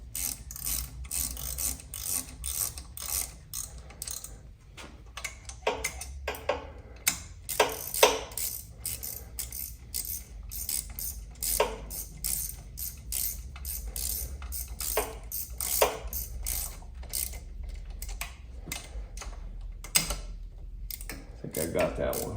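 Ratchet clicking in quick bursts while snugging brake bolts on a Shovelhead motorcycle in a garage workshop, close and fairly loud, with brief pauses between runs of clicks.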